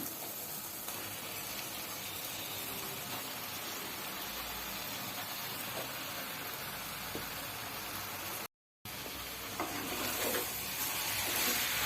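Steady hissing sizzle of mutton being sautéed with chili powder in a pan for biryani, with occasional stirring scrapes and a brief cut partway through.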